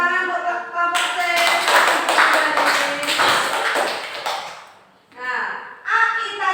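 Classroom applause for a student group, a dense burst of clapping that swells and then fades out, with children's voices breaking in over it toward the end.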